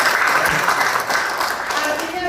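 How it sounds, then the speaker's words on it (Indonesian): Brief burst of audience applause for a participant at a business training seminar, fairly loud and continuous with a few voices over it. "Tepuk tangan buat Bapak."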